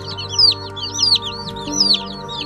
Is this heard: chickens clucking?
yes